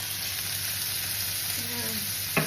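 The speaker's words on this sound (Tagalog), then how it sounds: "Gisa-gisa lang po ng matinding panggisa po yung ating kamatis guys, para maluto po siya guys." Chopped tomatoes sauté in a hot pan, a faint, steady sizzle and crackle of frying, with a soft clink of a utensil near the end.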